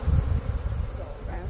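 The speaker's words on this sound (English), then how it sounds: "As you can see, there's lots of beehives around me" Bees buzz around a cluster of beehives in an apiary, making a loud, close, low droning hum that wavers steadily throughout.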